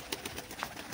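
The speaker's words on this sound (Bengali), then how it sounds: "ওই যে উপরে উঠে ডাকছে।" Pigeons on a rooftop give a few short coos with soft wingbeat-like rustles, fairly faint against outdoor background noise.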